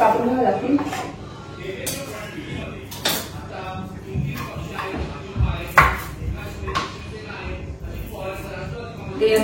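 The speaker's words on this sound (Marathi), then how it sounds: "कांदे पण कापून घ्यावे लागतील." Onions chopped with a knife on a board give a run of irregular sharp knocks and thuds, close and moderately loud, with someone talking over them.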